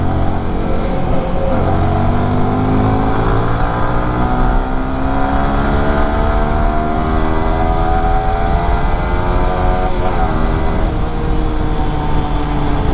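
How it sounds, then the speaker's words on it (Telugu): A Yamaha R15 V3 155cc motorcycle with its stock exhaust being ridden, its engine a loud, steady, smooth drone that rises and falls in pitch as it shifts through the gears, close and continuous throughout. "స్టాక్ ఎగ్జాస్ట్ ఎట్లా అంత బాగుంటుందంటే చూడండి ఎంత స్మూత్ ఉంది బండి"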